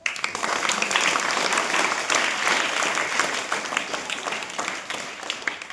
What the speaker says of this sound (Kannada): ಎಲ್ಲರೂ ಚಪ್ಪಾಳೆ ಮುಖಾಂತರ ಧನ್ಯವಾದ ಹೇಳೋಣ